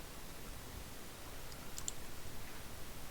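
A couple of soft, quick mouse clicks close together, faint against a steady hiss, while filling in a website form for a Q-Net telemarketing manager certification exam application.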